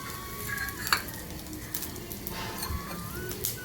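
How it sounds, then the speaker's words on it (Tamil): Dal, dried curry leaves and buttermilk chillies frying in oil for mor kuzh, a soft continuous sizzle with scattered light clinks and stirring scrapes against the pan. "இது எல்லாத்தையும் நல்லா ஃப்ரை பண்ணிடுவோம்"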